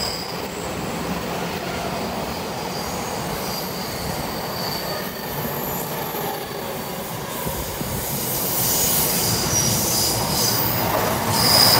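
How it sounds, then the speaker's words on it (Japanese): An E217 series commuter train pulls into platform 3 of a station, its wheels squealing loudly and steadily over the rails, the noise building toward the end as it comes in close. "3番線は逗子行きの到着です。"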